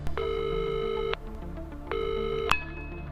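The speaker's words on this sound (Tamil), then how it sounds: "அப்பதான் ஒரு ஃபோன் வரும்." Two bursts of an electronic telephone ring tone, each about a second long with a short gap between, stacked harmonic tones steady and fairly loud, followed by a brief click as the call is picked up.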